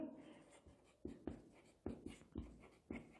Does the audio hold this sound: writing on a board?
yes